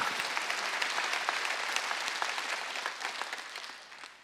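Church congregation applauding during a Wednesday worship service, a dense steady clapping that fills the room and tapers off slightly toward the end.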